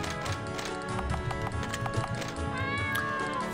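A cat in a video game meows against layered game music and rhythmic clip-clop-like effects, the cries rising briefly above a dense, steady backdrop.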